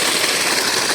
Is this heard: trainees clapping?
no